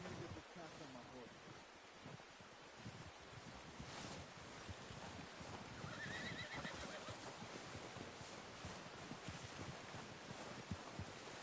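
A horse whinnies amid a busy wash of Red Dead Redemption 2 game ambience, with low rumbling noise and faint hoof-like clatter throughout.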